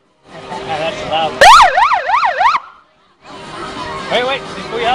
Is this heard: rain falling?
no